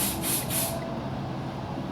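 Amos hair spray misted onto bangs in a Cheongdam-dong hair salon, a steady close hiss lasting the full two seconds with a few brief pulsed bursts at the start.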